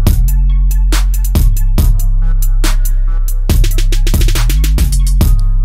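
Two synthesizers trade short phrases in call and response over a steady low bass, each line entering as the other falls silent, with sharp percussive hits punctuating the loud, dense beat.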